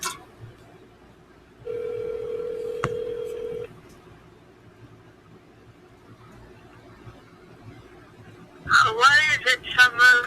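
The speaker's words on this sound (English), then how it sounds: "I can actually just call her right now." A phone call being placed: a held tone from a handset sounds for about two seconds with a click partway through, followed by quiet and then a person talking near the end.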